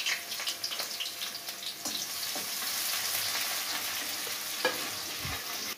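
Onion and garlic crackle and sizzle steadily in oil in a pan, with occasional scraping stirs and clinks close up, no voices.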